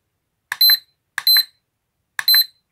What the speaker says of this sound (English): what you get is just this constant beeping on everything, which is a bit annoying